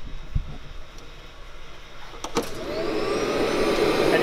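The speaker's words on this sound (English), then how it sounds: "Then you plug in the blower" An air blower is plugged in to backwash an Evolution Aqua K1 micro bead filter, with a couple of clicks followed by a loud, steady rushing roar that builds in and holds close up.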